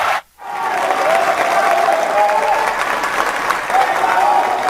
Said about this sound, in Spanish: quiero pedirles 1 minuto de aplausos en reconocimiento a la labor del bloque de